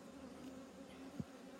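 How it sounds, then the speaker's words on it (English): Bees buzzing around beehives give a faint, steady insect drone with a low hum, plus one brief soft bump near the end. "there's a lot of bees in here"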